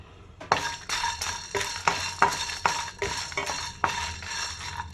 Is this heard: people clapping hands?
no